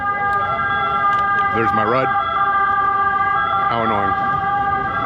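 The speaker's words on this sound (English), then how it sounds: "a lot of annoying sirens going off around me" Emergency vehicle sirens wail steadily near the Vatican in Rome, with a rising and falling tone over constant city noise. Someone speaks briefly over them.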